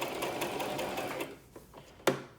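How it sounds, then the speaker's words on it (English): A sewing machine runs fast, rhythmic back stitches at the edge of a fabric face mask, then stops, leaving a quiet pause before a sharp click. "I'm going to do some back stitches"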